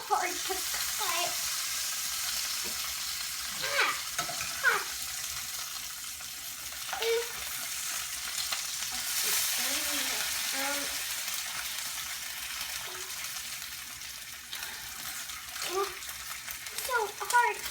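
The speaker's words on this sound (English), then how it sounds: "While the bacon is cooking" Bacon frying in a pan, a constant hissing spatter that runs unbroken throughout, with occasional voices and someone speaking over it.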